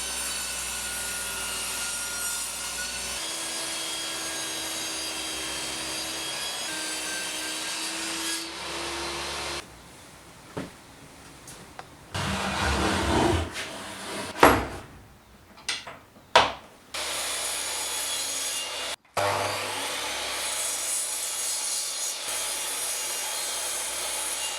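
Wood boards for a workbench cover being sized on a saw: a long steady machine whine, then rasping cuts and bursts of scraping and knocking as pieces are handled, close and fairly loud with no speech.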